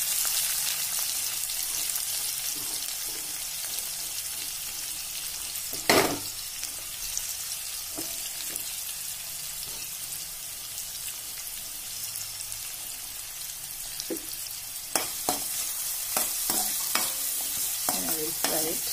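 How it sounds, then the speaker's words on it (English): Mustard seeds, ginger and onion frying in oil for sevai upma make a continuous close sizzle, punctuated by occasional sharp pops and the scraping clicks of stirring. "And I will fry it well"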